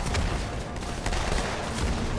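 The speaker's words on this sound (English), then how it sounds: "Ah, he's shooting me!" Rapid gunfire in Halo: The Master Chief Collection, a dense continuous burst of shots filling the short moment, fairly loud with no talking.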